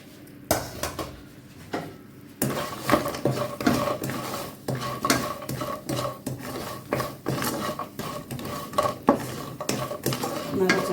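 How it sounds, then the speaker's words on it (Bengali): Small fried snack pieces made from semolina and rice, stirred in a pan to coat them with sugar, making busy scraping, rattling and clinking of the spoon against the pan, close and continuous after a brief quiet opening. "নাড়াচাড়া করে চিনিটা একদম গামাখা করে নিয়ে নিতে হবে।"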